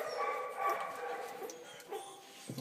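Newborn Malinois puppies, about a day old, whimper and yip in a thin, continuous high-pitched chorus of overlapping cries, close and steady throughout with no talking.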